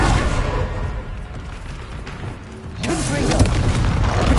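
A Bombarda spell goes off in a wizard game with a deep, booming blast: loud rumbling fades, then a second heavy burst of explosive noise hits near the end, with a voice mixed in.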